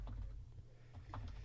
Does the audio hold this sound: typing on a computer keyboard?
yes